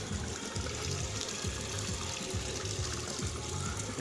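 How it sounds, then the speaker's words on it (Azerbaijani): Spring water at Tel Bulaq near Nabran in the Khachmaz district trickles and splashes steadily. A continuous close wash of flowing water fills the scene, with no one speaking. "Burada bir bulaq var"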